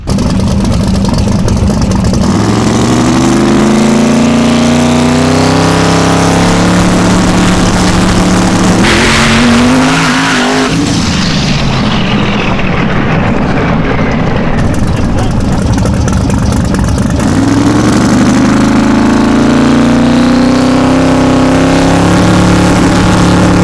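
The Murder Nova, a Chevrolet Nova street car, makes a pass on a public street: a loud, throaty engine climbs in pitch as it accelerates hard, shifts gear midway with a sharp drop, then revs up again, close and dominant throughout.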